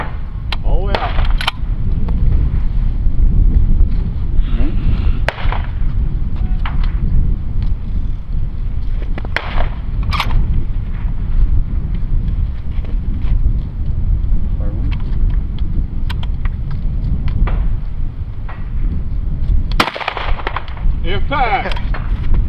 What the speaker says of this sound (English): Now shoot it again.